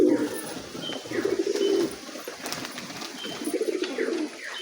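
A puffed-up pigeon giving its display call, soft low cooing phrases repeated several times close by, with faint chirps from other birds in the background.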